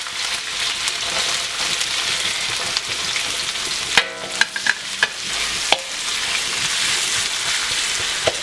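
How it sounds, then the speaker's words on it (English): Garlic, jalapeno and onion frying in hot oil in a wok for chicken chow mein, a steady loud sizzle throughout with a few sharp clinks of a utensil against the wok midway. "I'm gonna put some oil here, and now I put some garlic, and put the jalapeno. Put the onion here."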